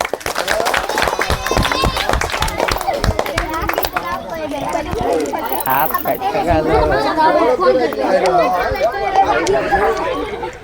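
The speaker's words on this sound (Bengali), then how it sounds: "তার জন্য হাততালি" Applause for the winner of a steel ball game: a burst of quick hand claps rings out amid loud, lively crowd chatter, then fades as the voices of many people carry on talking.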